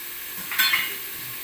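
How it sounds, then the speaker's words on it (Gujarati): Crushed peanuts are added to a sizzling tempering for vegetable dal khichdi, giving a soft steady sizzle with a short stirring clatter in the middle. "આ સિંગ દાણા છે, મેં મોટા મોટા એને ક્રશ કરી લીધેલા છે, તે પણ આપણે અંદર ઉમેરી દઈએ"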